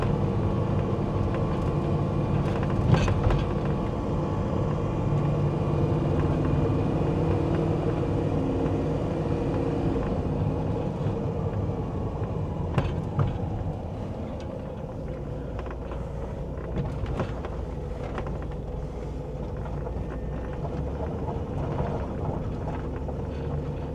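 An LS-engined car with Holley Terminator X engine management driving uphill, a steady low engine rumble with a few sharper knocks, moderately loud and close, no speech.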